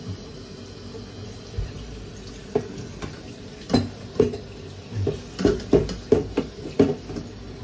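Water added to a cooking pot while making pork sinigang, sloshing and splashing with clanks of metal, starting sparse and growing into a busy cluster of pours and knocks, close by.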